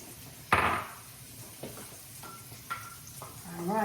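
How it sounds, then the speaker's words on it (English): Onion and garlic fry in a pan with a soft, steady sizzle, broken by a loud clatter of utensils early on and a few lighter knocks later. "I'm just softening up some onion and some garlic here"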